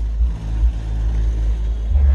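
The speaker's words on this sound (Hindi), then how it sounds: "मैं गाड़ी से बहुत दूर खड़ा हूँ और बेस बिल्कुल क्लियर आ रही है" A car subwoofer driven by a CA 500 RMS mono amplifier thumps deep bass, a heavy low booming pulse heard from a distance outside the car, steady and loud with no talk.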